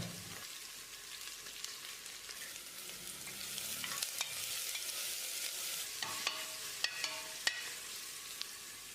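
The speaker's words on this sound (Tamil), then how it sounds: "வெங்காயத்தை நல்லா பொன்னிறமாக வதக்கிடலாம்" Continuous sizzling of sliced onions sauteing in hot oil until golden, with occasional scraping clicks from stirring; fairly quiet and close, no voices.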